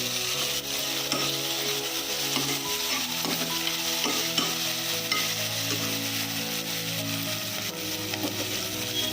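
Peas for a curry stir and fry in a little oil, with a steady bright sizzle throughout and the scrape and clatter of a spoon against the pan at irregular intervals, close and fairly loud.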